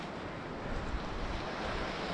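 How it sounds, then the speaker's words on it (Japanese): Strong spring water gushing out as a stream in the snowy Kamikochi valley near Konashidaira, a dense, steady roar of rushing water, close and constant, with no talking. "小梨平のあっち側からものすごい量のお水が湧き出てるんで"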